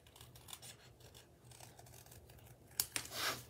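Scissors snip and scrape through a paper card for a twist pop-up Galentine craft, faint close rasping cuts ending in a couple of sharper snips.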